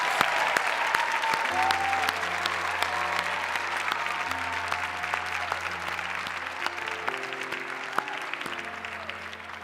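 An audience at a nurse pinning ceremony claps steadily for award recipients, a dense, continuous wash of applause lasting about ten seconds, with a low sustained hum running underneath.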